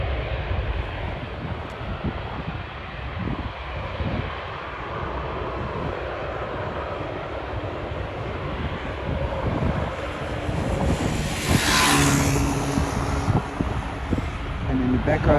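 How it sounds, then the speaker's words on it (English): An Airbus A380 takes off at Schiphol airport, its broad engine roar building steadily and swelling louder toward the end over a constant background of airport rumble. "There's the A380 taking off."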